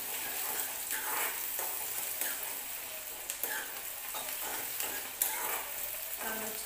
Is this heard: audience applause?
no